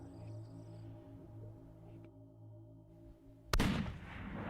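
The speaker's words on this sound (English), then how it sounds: "Good shot. One shot's all it took." A single rifle shot cracks loud and sharp during an aoudad hunt in West Texas, breaking a quiet scene of steady insect drone and faint wind, with a rolling echo trailing after.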